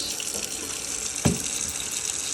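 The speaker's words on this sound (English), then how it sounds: "And now I've got them in a bowl in the sink, and I'm going to turn the water on." Steady rush of tap water pouring from a kitchen sink faucet into a bowl of produce, continuous and close, with a brief clunk partway through.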